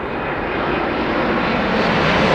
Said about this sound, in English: This is Etihad 25 Heavy from Abu Dhabi